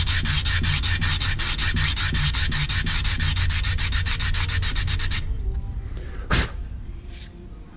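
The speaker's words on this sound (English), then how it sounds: "as long as we hand sand this until the whole thing has got that matte finish" A knife handle is hand sanded on 80 grit sandpaper laid on a granite tile, a loud rhythmic rasping of quick back-and-forth strokes for several seconds, then stopping with a brief rub and a soft scuff afterward.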